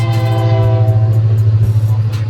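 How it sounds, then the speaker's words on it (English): Horn of a sugarcane freight train sounding loud and steady from close by, a sustained tone lasting the whole moment over rumbling rail noise. "That's the first time I've ever seen a train on this railway."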